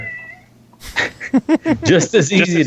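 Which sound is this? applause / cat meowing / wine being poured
cat meowing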